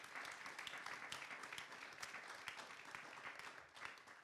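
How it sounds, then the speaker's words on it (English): Audience at a bookstore author evening with climate scientist Michael E. Mann applauds for an environmental group, producing a faint but dense patter of clapping throughout. "So can we go ahead and give PennFuture a round of applause for the good work they're doing?"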